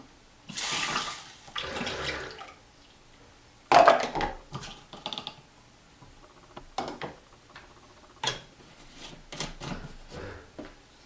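Water is poured through a funnel into a bottle in bursts of splashing trickle, loud at first, then a sharp gush followed by scattered drips and short pours with quiet gaps between.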